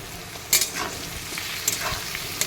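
Kakka shutki dried fish frying with onions, a continuous close sizzle broken by two brief clattering stirs of the spatula, no voices.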